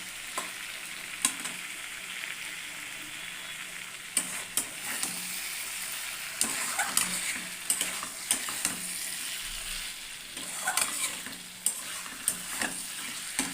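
Koi fish masala sizzles steadily in a pan as it is sautéed, with a spatula scraping and stirring in irregular strokes close up, no voices.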